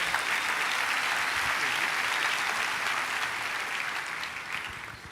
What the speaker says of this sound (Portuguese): eu queria que você recebesse o pastor Maurinho com um aplauso